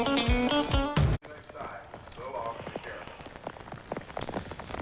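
Rain falling at Rockingham race track after a 2000 NASCAR Winston Cup race, a steady patter on surfaces that follows a short burst of music and continues with scattered drops and faint crowd ambience.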